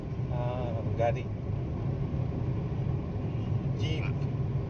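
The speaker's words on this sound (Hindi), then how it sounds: "हाँ अंकल जीप चला रहे" A jeep engine rumbling steadily while the vehicle drives along, a continuous low drone from inside the vehicle with a couple of brief voices speaking over it.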